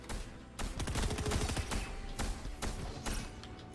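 Shotgun blasts in an online multiplayer shooter boom in a quick flurry of several heavy shots, then a few more spaced reports, moderately loud and close with no talk over them.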